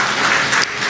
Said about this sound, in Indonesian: Saudara menyambut dengan tepuk tangan